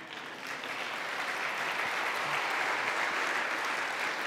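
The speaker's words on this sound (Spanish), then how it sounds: "Muy bien, aplauso entonces." An audience at a Catholic apologetics mission event breaks into steady applause, a dense, even wash of clapping that holds at a constant level throughout.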